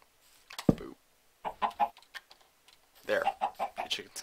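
Short bursts of video game chicken clucking come in a few clusters separated by silence, fairly close and distinct, with no talking.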